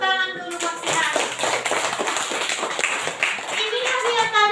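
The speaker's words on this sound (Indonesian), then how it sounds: "Kasih tepuk tangan dulu buat si Hanif." A classroom of students claps for a classmate after he answers correctly, a dense burst of many hands applauding steadily and fairly close for several seconds.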